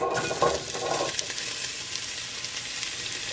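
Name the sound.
leeks, celery and onions sizzling in a pan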